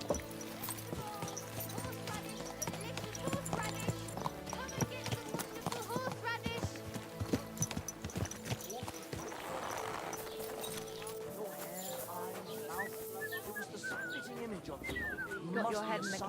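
Horse hooves clip-clop steadily in Kingdom Come Deliverance 2, mixed under a dense bed of game music and talking voices throughout.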